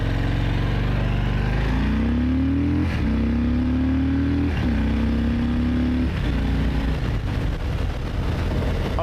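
A 2018 Harley-Davidson Fat Boy motorcycle accelerating on a test ride, its engine note climbing through several gears in stepped rises, loud and close with no talk over it.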